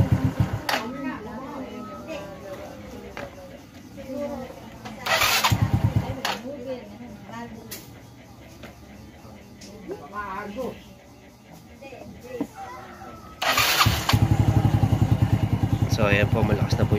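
Soulty motorcycle engine idling while the carburetor's idle and air-fuel mixture screws are turned, a steady close mechanical putter with revs rising in short bursts, heard under someone talking.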